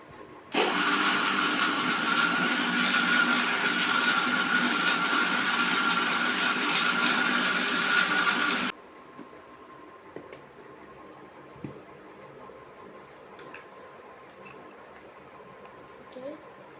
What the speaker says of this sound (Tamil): இப்போ இதை போட்டு மிக்சியில் அரைக்கணும்.